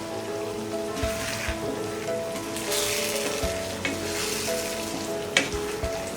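A moong dal tikki mixture with chaat masala, garam masala and salt cooks on a low flame, sizzling and frying steadily up close, with occasional scrapes and taps from stirring.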